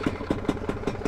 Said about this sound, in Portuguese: Se liga na partida dessa moto